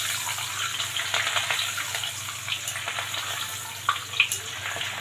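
Chillies fry in hot oil for homemade namkeen, a steady close sizzling hiss with a few sharp pops near the end and no talking.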